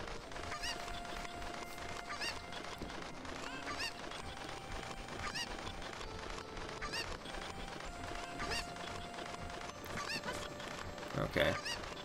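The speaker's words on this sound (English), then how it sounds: "Because there's just too damn many chickens." Cuccos, the chickens in Zelda: Ocarina of Time, cluck and squawk repeatedly over game background music, forming a busy, steady flock chatter.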